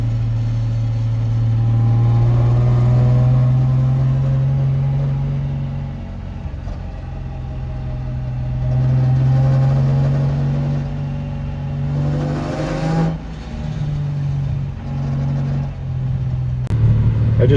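A Nissan 350Z engine drones close up as the car drives, revving up and easing off in waves, with a brief rattle near the end.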